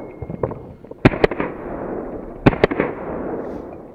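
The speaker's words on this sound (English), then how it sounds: "shoot the last target while you're shooting everything else on the move" Gunshots from a moving shooting drill: two quick pairs of sharp, loud cracks about a second and a half apart, each followed by short reverberant tails, with faint footsteps and movement between them.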